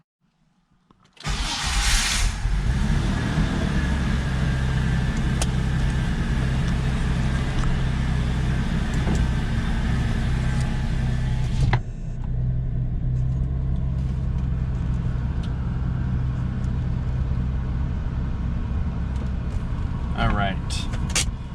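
An Audi B5 S4 fires up in a garage with a sharp engine start, then settles into a steady, loud idle rumble that carries on as the car pulls out, with a brief dip partway through.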